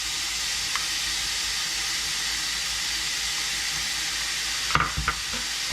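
Ground beef sizzles steadily in a pan for a grandmother's pasta meat sauce while onions go in, a loud, even frying hiss with a few brief clatters near the end and no talking.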